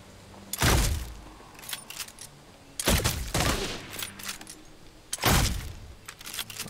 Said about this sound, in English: She's trying to shoot me with a shotgun.